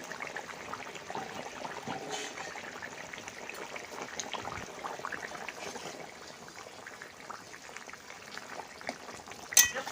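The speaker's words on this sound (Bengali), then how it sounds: "তরকারিটা ফুটে উঠেছে" Village-style shol fish curry boiling in a pot: a soft, steady bubbling and simmering throughout, faint and continuous, with a brief clink near the end.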